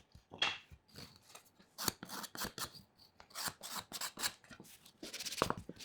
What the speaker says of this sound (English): I'll also scrape off any last bits of glue